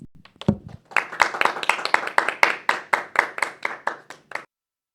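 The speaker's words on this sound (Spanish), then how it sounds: "vamos a recibir nuevamente con un fuerte aplauso a Alejandra Villegas" A small audience at a Catholic faith talk gives applause: a few scattered claps build into a round of distinct, fairly evenly spaced claps from a handful of people, close and crisp, thinning out and stopping after about four seconds.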